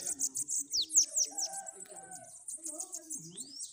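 Sibite songbirds calling in their territory, a quick series of high chirps and descending whistled notes, close and clear, with low murmuring voices underneath.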